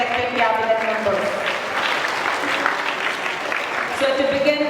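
Students applaud the newly selected cabinet at a school investiture ceremony. A wash of many hands clapping at moderate volume runs throughout, with voices and crowd murmur layered over the clapping.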